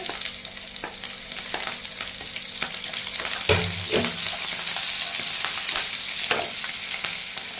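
Onions and green chilies fry in a pan for a Punjabi dish, giving a steady, close sizzle with occasional scraping stirs and a few louder clatters midway, with no talking.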